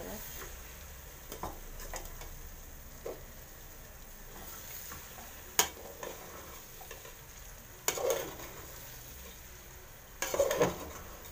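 Scraping, stirring sounds as food is mixed into a spice tempering in a pan, with faint sizzling, punctuated by a few sharper clinks of a utensil against metal.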